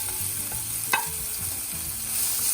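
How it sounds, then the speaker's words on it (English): Onion and green chili sauté with cumin seeds in a little oil for Punjabi-style gobi paratha filling, making a continuous close sizzle with soft stirring scrapes and one sharper clink, no speech. "I'm gonna add my onion and my green chili in that"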